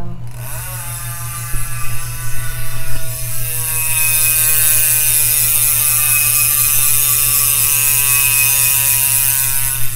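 A DT Swiss 240 rear hub with a one-piece carbon fiber body on a high-end mountain bike, its freewheel ratchet clicking as a fast, loud, steady buzz that speeds up and then holds, close and alone.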